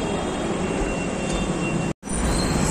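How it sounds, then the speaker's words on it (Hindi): Steady rumble of a metro train at a busy Delhi metro station, continuous broadband noise with a brief dropout near the end, no talking. "हम यहाँ पहुंच गए मेट्रो स्टेशन।"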